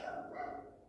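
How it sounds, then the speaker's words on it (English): A nearby dog gives one brief bark, faint and short, without talking over it. "there's a dog barking and it's annoying me."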